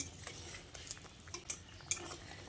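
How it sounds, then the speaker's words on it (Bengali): A utensil stirs ghee and garam masala powder through an egg and boiled potato dish, giving soft, irregular scrapes and light clinks of metal against the pan, quiet and close with no talking. "ঘি আর গরম মশলার গুঁড়োটা দিয়ে আবারও একবার ভালো করে নেড়েচেড়ে মিশিয়ে নিচ্ছি"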